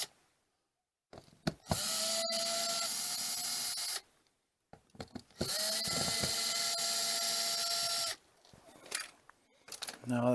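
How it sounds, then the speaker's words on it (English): A power driver with a Robertson bit backs screws out of an RV marine-grade 30 amp power inlet in two sustained whirring bursts of about two to three seconds each, separated by brief clicks and handling noises, heard up close. "First, I'm going to remove these screws here. I have a Robert's head bit"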